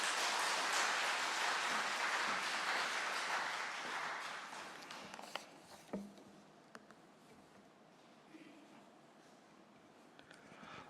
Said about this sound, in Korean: 우리 목사님 나올 때 우리 박수로 맞이하겠습니다